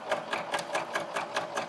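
A sewing machine runs a quarter-inch seam through quilting fabric for an iPad cover, its needle chattering in a quick, even rhythm of about four stitch bursts per second, close and moderately loud.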